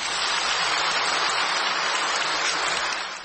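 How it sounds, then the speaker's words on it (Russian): Stormy applause from an audience in an archival Soviet speech recording, a dense, even roar of clapping filling the whole stretch at moderate level with no voices, fading slightly at the end. "Бурные аплодисменты."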